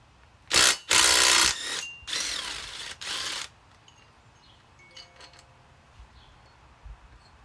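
A ratchet fitted with an extension loosens half-inch bolts on a Kohler Courage vertical engine. It gives four loud, rapid clicking bursts up close, then quiet with faint clinks.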